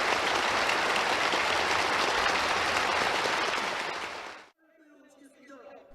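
Participants at a Korean youth union gathering burst into enthusiastic applause, a dense, loud wall of clapping that holds steady and then cuts off abruptly, leaving a quieter background with faint sounds.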